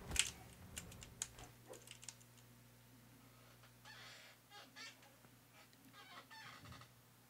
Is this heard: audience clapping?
no